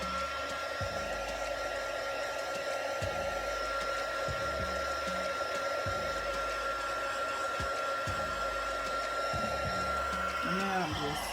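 A hair dryer blows steadily into the inside of a freshly painted can, a loud continuous whoosh with a constant whine, airflow fluttering slightly as the dryer moves about, with a brief murmur of voice near the end.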